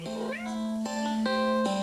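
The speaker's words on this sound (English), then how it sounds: "it has a little meow squeak" A cat plush toy gives off a squeaky electronic meow, a bright tonal squeal that shifts pitch in several steps over about two seconds, close and clear with no talking.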